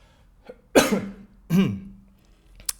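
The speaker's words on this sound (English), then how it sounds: "coughing in the mic" Two loud, close coughs into a microphone, about a second apart, with a small throat noise before and a faint click after.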